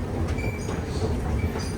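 A New York subway train approaches Whitehall Street-South Ferry station with a continuous rumble and the clatter of wheels on rails, loud and close on the platform.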